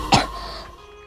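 A single sharp cough, near and loud, followed by a brief fading rasp.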